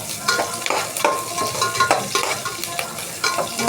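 Vadagam seasoning sautés and sizzles in a pan for fish kulambu, steady frying crackle with repeated stirring scrapes up close, no voices.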